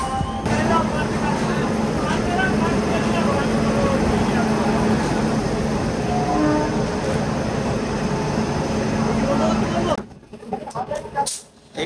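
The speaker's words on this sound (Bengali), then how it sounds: "ঠিক ও পাশে গাইস একটা লোকাল ট্রেন কিন্তু যাচ্ছে।" A local train rolls past at a station on the Howrah line, a loud continuous rumble and rattle filling the scene for about ten seconds before cutting out, with a voice talking over it.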